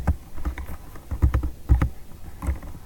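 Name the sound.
typing on a computer keyboard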